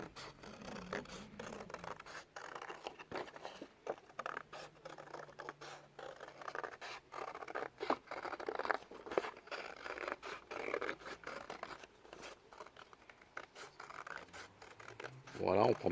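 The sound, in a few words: scissors cutting paper shapes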